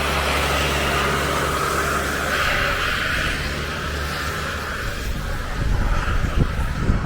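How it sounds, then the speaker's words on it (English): Noisy lorries rumble past on a road in Amed, Bali, a loud, continuous low engine roar with broadband road noise that holds steady close by throughout. "And these lorries are really noisy."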